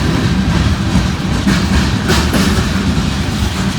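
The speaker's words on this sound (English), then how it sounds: "We got another yard emptying train here." A long freight train emptying a rail yard, loaded with scrap metal, rumbles past at close range, with a steady heavy roar and clickety-clack of wheels over rail joints throughout, with no voices.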